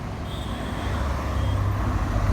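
A motorcycle ridden slowly toward the listener, its low engine rumble steady and gradually growing louder as it nears, with no voices.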